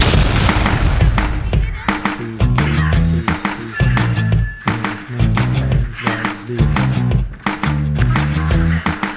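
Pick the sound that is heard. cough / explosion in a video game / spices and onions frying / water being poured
explosion in a video game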